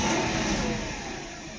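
The V8 of a 1993 Mercedes 500E barn-find project, its throttle repaired, revs hard, then its loud, close roar gradually eases off over under two seconds, with nobody speaking.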